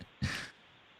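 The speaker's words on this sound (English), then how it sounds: "Boy, I hear you breathing." A single heavy breath carries over a phone line, one short puffing exhale rising briefly above a faint background hiss.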